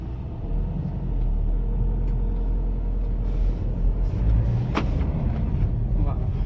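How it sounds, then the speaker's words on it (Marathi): A car is driven just after a new part has been fitted, with a steady, close engine and road rumble throughout and a brief hiss or clunk near the end; a voice may be faintly present. "आता आपण गाडी चालून बघू"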